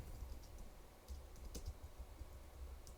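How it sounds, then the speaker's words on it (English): Quiet typing on a computer keyboard, a run of soft, irregular key clicks with a few louder taps, close and alone without speech. "Let me just finish typing this out."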